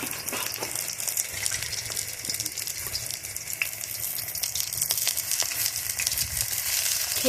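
Water lily stalks cut into strips and frying in hot oil: a dense, steady crackling sizzle with scattered pops, close up and moderately loud, with no voices.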